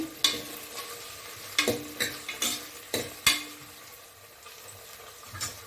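Ivy gourd frying in oil for a tangy curry gives a soft background sizzle punctuated by a series of sharp spoon-on-pan knocks and stirs, fading to quieter frying near the end, no speech.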